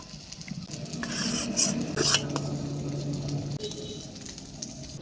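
Eggplant slices being turned over in a frying pan while lightly frying, with utensil scrapes and clinks over a soft steady sizzle, close by and moderately loud.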